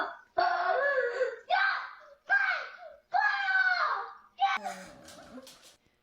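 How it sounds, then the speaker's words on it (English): A little girl who has hurt her foot screams and wails in a series of loud, close, drawn-out cries with brief gaps between them, ending in a ragged sobbing burst. "She's screaming, chop my foot off."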